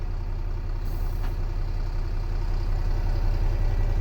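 A truck engine runs close and loud, a steady low rumble with a faint hiss of air partway through, continuous and unbroken throughout.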